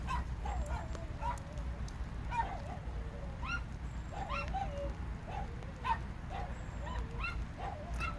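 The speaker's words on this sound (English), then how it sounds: "And can you hear the dogs?" Dogs shut inside a warm narrowboat bark and whine repeatedly in short, muffled yelps and whimpers, heard from a little distance over a low steady background rumble.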